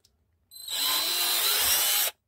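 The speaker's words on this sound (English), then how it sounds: "just drill this thing here." A power drill bores a screw-sized hole for a homemade TV remote volume control, giving a close, steady high-pitched whir for about one and a half seconds before stopping abruptly.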